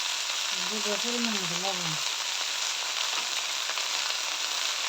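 Red spinach greens frying in a pan give a loud, steady sizzle throughout, while someone speaks briefly over it at the start.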